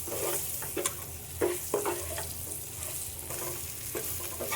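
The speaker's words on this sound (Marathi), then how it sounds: "आपण चांगलं मसाल्यामध्ये परतून घेतो" Salted raw banana slices are stir-fried in masala in a pan: a soft, continuous sizzle broken by several close scraping stirs and clatters at irregular intervals, with no voices.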